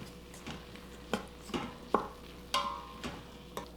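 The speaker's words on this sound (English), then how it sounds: "And just stir these around for about 30 seconds just to kind of wake them up." Spices stirred in a pot with residual heat for white bean chili, a few soft scraping clinks of a utensil against the pot, quiet and close, with light sizzling in the background and no talk.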